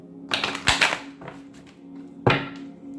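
A few close papery tarot-card-shuffling bursts over a steady low hum, with a gap and one last sharp shuffle near the end.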